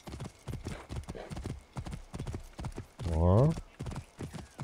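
Rhythmic clip-clop hoofbeats of a horse being ridden in the video game Assassin's Creed Origins, steady and close, with a loud whinny near the end. Someone talks over the gallop.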